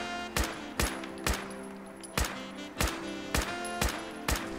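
Automatic gunfire in Fallout 4, eight sharp evenly spaced bursts over a steady tonal game hum, loud and close with no talking.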